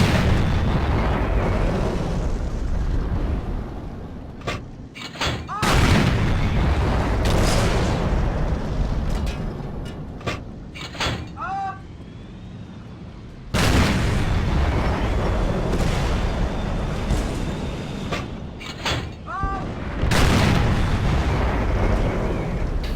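High-explosive tank shells burst repeatedly in the World of Tanks battle, with a Panther 8,8 taking hits: loud, heavy booms at irregular intervals over a dense rumbling engine and battle din, no talk.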